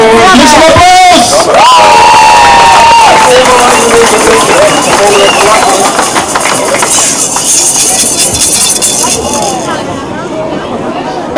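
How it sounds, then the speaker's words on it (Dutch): Comedy-festival audience at Houthalen-Helchteren in 2013 cheers, whoops and claps loudly right after a birthday song, a dense crowd roar that slowly fades, with voices mixed in. "Geef een applaus!"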